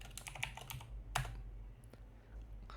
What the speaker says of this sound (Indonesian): Kita coba ketikkan perintahnya.